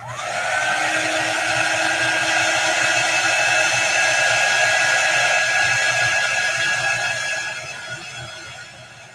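A handheld dryer blows steadily and loudly over a chalk-painted wood cutout, a constant whooshing whine that fades slightly as it switches off near the end.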